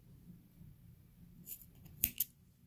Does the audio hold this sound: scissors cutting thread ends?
yes